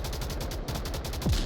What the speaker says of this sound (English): Lots of gunfire coming in from the north.